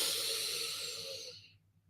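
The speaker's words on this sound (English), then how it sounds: "Big deep breaths from the stomach." One long, slow exhale during guided meditation, a breathy hiss that fades away over about a second and a half, close and soft, with no voice over it.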